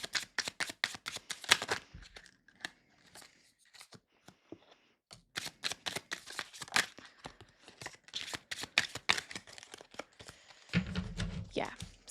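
Tarot cards being shuffled by hand, quick rapid riffling bursts separated by short pauses and softer card handling, close and fairly quiet, with brief speech in places.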